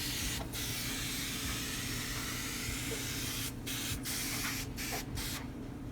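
Easy Off oven cleaner sprayed from an aerosol can onto a cast iron pan, a steady close hiss running almost unbroken with a few brief pauses near the end.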